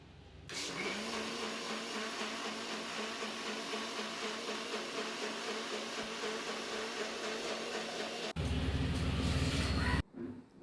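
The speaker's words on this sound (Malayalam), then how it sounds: "അങ്ങനെ ഇതാ ഒന്ന് നന്നായി അടിച്ചെടുക്കുകയാണ്." A kitchen blender whirs loudly and continuously while mixing cold milk with watermelon squash, its pitch dropping into a heavier roar near the end before it cuts off.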